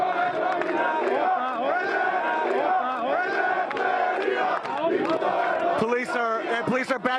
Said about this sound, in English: They're chanting